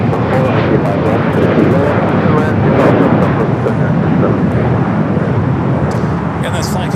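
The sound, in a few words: Boeing 787-9 Dreamliner from Tokyo Narita arriving at LAX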